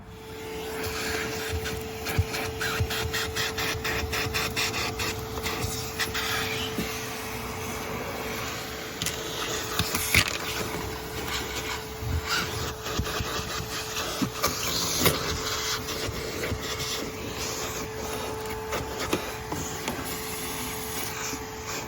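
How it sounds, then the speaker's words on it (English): A vacuum cleaner hums steadily while cleaning out a GMC work truck's interior with the mats removed, a constant drone broken by scraping, rubbing and knocking as the nozzle works over the floor and under the seats, with no talking. "we will get to clean this out with the vacuum"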